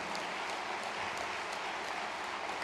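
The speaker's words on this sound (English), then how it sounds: "let's give all our foreign participants a huge round of applause." Audience applause in a large hall at the inauguration of the 21st World Congress of Accountants in Mumbai: a steady, even wash of many hands clapping that stays fairly quiet and distant throughout.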